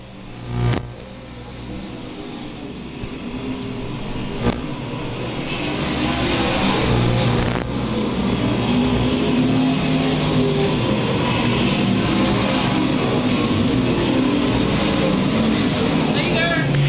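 USRA modified stock cars roaring down the front stretch at a dirt-track nationals main, a steady loud engine drone that swells after a few seconds as the pack passes, with an announcer calling the race over it.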